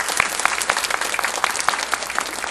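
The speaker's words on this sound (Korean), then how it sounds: "우리 한번 앞으로 수고하시라고 한번 큰 박수로 한번 축복해 주시기 바랍니다" A church congregation at a Wednesday worship service applauds a newly appointed choir conductor with steady, dense, full-room clapping that carries evenly throughout without a break.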